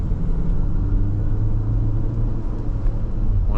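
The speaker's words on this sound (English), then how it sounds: "pulling away from the light, behind the slowest person in the world" A 2027 Infiniti QX65 midsize SUV pulls away from a traffic light, heard from inside as a steady, loud low engine and road rumble without speech.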